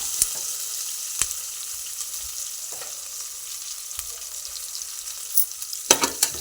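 A ground mixture fries in a ghee and oil blend for a simple rice dish, producing a soft steady sizzle with a few sharp spatula knocks and a brief flurry of scraping near the end.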